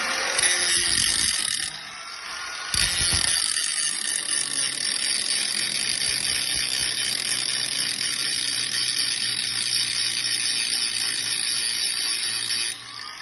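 An angle grinder cuts a 37.5 degree bevel into metal, a loud, close, high-pitched whine that starts, pauses briefly, then holds steady for about ten seconds.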